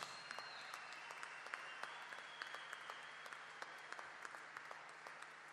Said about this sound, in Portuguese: para ele, uma salva de palmas